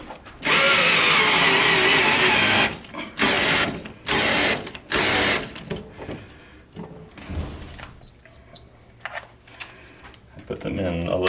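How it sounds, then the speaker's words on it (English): A power tool drives 3/8-inch-drive lag screws into a wall plate in several loud whirring bursts, followed by quieter clicking ratchet turns and a voice speaking in between. "I put them in a little bit loose and then come back with a ratchet and finish them off."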